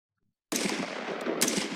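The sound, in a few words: continuous automatic firearm gunfire in an animation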